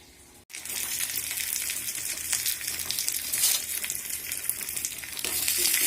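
Asafoetida, garlic and ginger frying in hot oil for a mango rasam: a sudden burst of close, steady sizzling that starts after a brief silence and holds loud and even to the end, swelling slightly near the finish.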